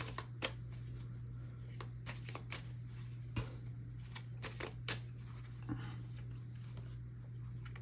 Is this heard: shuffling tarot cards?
yes